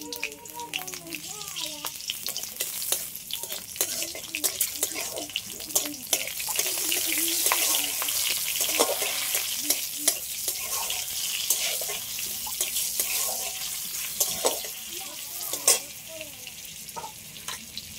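Three chillies, one dried and two fresh red-green, sizzle in hot oil in a pan, a steady broadband frying hiss with occasional stirring clatter, fairly close and continuous with no voices.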